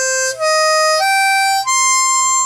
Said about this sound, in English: So on this particular one, hole 2 blow has gone flat.